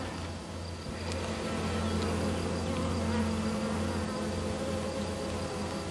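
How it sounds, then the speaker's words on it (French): Honeybees buzz steadily around an open hive during a smoke-free inspection, a close, continuous droning hum with no one talking. "Donc là, il y a à peu près 50 grammes d'abeilles, quoi."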